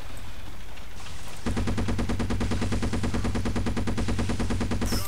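Rapid, steady automatic fire from a Raptor vehicle's guns in the game UT2004 starts after a short stretch of engine hum, then keeps going as a loud, even stream of shots that lasts to the end.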